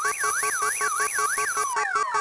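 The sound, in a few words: car alarm in a video game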